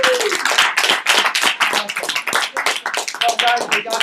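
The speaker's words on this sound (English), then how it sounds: "Hey, a big applause." An audience at a health-shake presentation breaks into dense, steady applause, many hands clapping at once in a continuous wash, with voices mixed in underneath.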